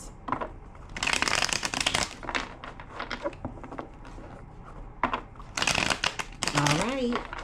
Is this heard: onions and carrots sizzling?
no